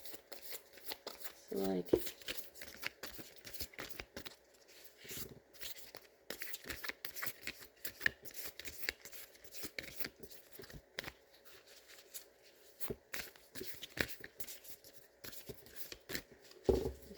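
Soft, steady riffling and flicking of tarot cards being shuffled close up, with crisp repeated taps and a brief murmured voice near the start.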